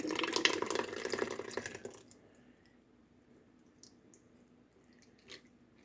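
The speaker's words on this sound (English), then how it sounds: "Let me rinse my hand off." Tap water gushes briefly as a hand is rinsed in a kitchen sink, a close hissing flow for about two seconds that then cuts off, leaving faint drips and small clicks.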